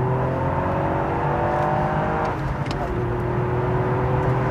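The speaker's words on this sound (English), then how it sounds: "Let's just quickly accelerate again." A 2021 Toyota GR Yaris hot hatch engine pulls hard under acceleration, a steady rising drone with a brief dip midway, loud and close from inside the cabin.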